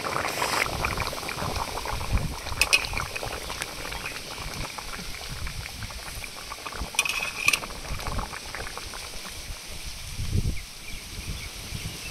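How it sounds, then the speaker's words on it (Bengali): A pot of fish curry with taro (man kochu) simmers over a wood fire, giving a continuous close bubbling and burbling with occasional louder pops and no talking. "এই সুন্দর কাঠের জালে যত ফুটবে ততই তো টেস্ট বাড়বে"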